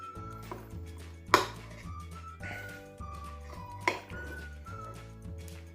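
A Kaufland American-style pizza with barbecue sauce is cut into slices with a cutting tool, giving two sharp knocks about two and a half seconds apart over a steady tonal background hum.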